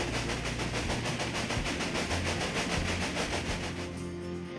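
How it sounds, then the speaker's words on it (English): A train rolling along a route between Omaha and Norfolk in the Railway Empire strategy game, a steady rhythmic clickety-clack over a continuous rumble that thins out toward the end. "The train is now traveling between Omaha and Norfolk."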